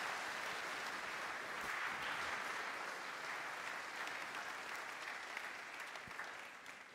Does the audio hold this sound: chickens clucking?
no